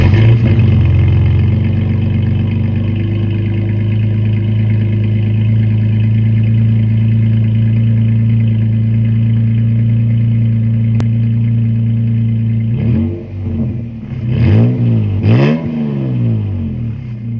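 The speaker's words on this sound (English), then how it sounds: "Here is the sound of the exhaust afterwards" Pickup truck fitted with a new MBRP exhaust, recorded right at the tailpipe after warm-up: a steady, loud idle rumble for about thirteen seconds, then several sharp revs that rise and fall near the end.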